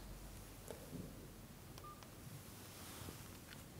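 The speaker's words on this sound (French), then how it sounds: "Il suffit d'appuyer sur le bouton M2 avec le bon paramétrage et le téléphone va appeler directement la téléassistance." A Datacet D7001 telephone auto-dialing a remote-assistance line after its M2 button is pressed, with a few faint, brief touch-tone beeps scattered over a hissy room background.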